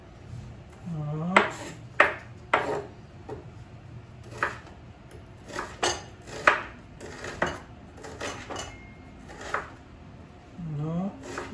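A knife chops an onion into small pieces on a board for homemade pizza sauce, giving a run of sharp, close cuts in an uneven rhythm. A voice briefly speaks between the strokes.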